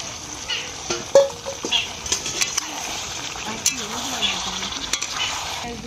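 Chicken sautéing with chopped tomato in a covered pan, a soft steady sizzle with a few stirring scrapes and clinks of a utensil against the pan at moderate distance.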